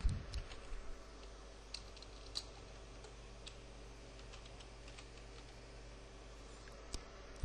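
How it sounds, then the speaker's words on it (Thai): Someone types a coupon code on a computer keyboard. Sparse, quiet keystroke clicks are scattered over a low, steady room hum, with a few taps bunched at the start and end. "คราวนี้เราพิมพ์คูปองที่เราเพิ่งขายไปเมื่อกี้นะครับ"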